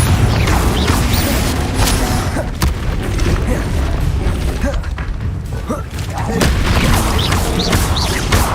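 Spell combat in Hogwarts Legacy erupts in loud, continuous booming explosions and crashing impacts, a dense barrage of blasts layered one over another with a voice calling out beneath the din.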